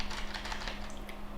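Quiet keystrokes on a computer keyboard, a steady run of light clicks throughout over a faint electrical hum, with no talking.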